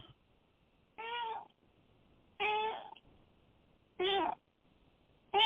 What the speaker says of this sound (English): And the cat sounds like she agrees.